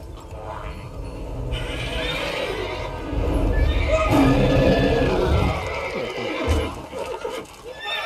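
Roach, Geralt's horse in The Witcher 3, lets out a loud whinnying neigh amid hoof clip-clops and game ambience, with a voice speaking nearby.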